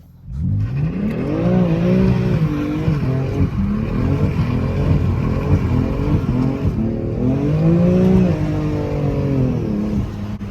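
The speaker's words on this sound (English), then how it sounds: "That is how you slide the F80s." BMW F80 M3 engine revving hard through the gears while sliding sideways in a drift, a loud, continuous rising and falling roar sustained for about ten seconds, close by with no talk.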